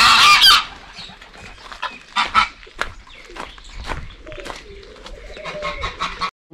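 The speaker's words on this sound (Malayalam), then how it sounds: "എന്നെ കണ്ടോണ്ടാന്ന് തോന്നുന്നു വാത്ത കൊത്താൻ വരും" Geese honk and chickens cluck loudly nearby at a mountain farm stay, a busy overlapping run of calls with a sharp burst at the start and scattered squawks throughout.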